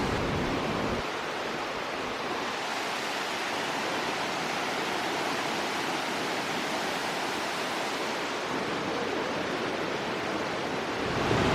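Steady, dense roar of Iguazu Falls in Argentina, heard from a viewing circuit near the cascades, a loud continuous wash of falling water holding almost unchanged throughout with no voices.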